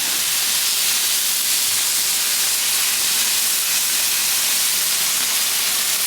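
A smash burger patty is pressed onto a hot Blackstone griddle, producing a loud, continuous hissing sizzle that stays steady and close with no voices over it.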